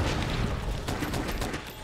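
Light bowgun in Monster Hunter World firing a rapid burst of normal ammo shots, loud and close, in a dense stuttering volley.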